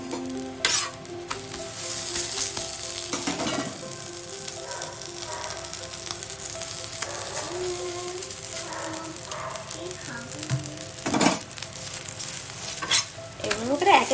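Aloo parathas frying in ghee on a pan, a steady sizzle broken by sharp scraping and flipping sounds from a spatula, with brief background voices at times.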